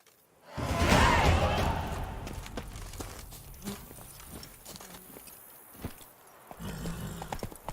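Geralt's horse Roach in The Witcher 3 makes a rushing swell of movement and snorting, then scattered hoof clops and soft thuds fade to a quieter, uneven shuffle, with no talk.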